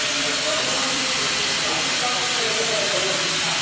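Shielding gas hisses steadily from an opened MIG welder gas valve, a loud continuous broadband rush that does not change throughout.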